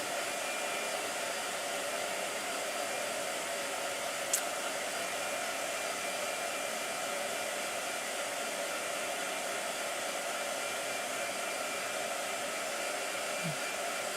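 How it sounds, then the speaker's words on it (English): A blow dryer runs steadily and loudly for the whole stretch, a constant broadband whoosh with no talk over it, apart from one brief click near the middle. "Blow dryer."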